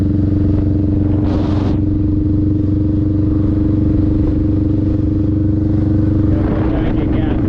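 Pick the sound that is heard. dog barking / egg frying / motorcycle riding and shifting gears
motorcycle riding and shifting gears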